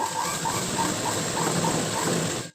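A sewing machine stitching a back patch onto a blouse runs in a fast, steady mechanical whir with regular rhythmic pulses, close and continuous before stopping abruptly.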